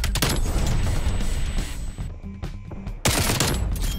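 Rapid gunfire in Call of Duty Black Ops Cold War, loud dense bursts of automatic shots filling the clip with a short lull before a final heavy volley.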